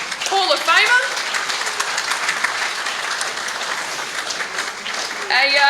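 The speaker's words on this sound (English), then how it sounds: "Everyone give him a round of applause" Warm audience applause at a sports awards night, steady clapping throughout, with a voice speaking briefly at the start and again at the end.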